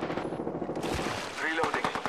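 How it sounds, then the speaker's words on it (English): Rapid automatic gunfire in the battle royale shooter Apex Legends, a close burst of dense, rhythmic shots followed by several sharp single reports, with game sounds layered underneath. "Shots fired at me."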